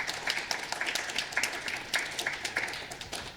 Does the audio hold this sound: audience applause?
yes